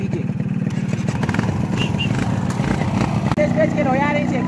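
Yamaha XTZ 125 motorcycle engine running during a stunt attempt in second gear, with a rough, sputtering, close engine rumble and revving under someone talking throughout.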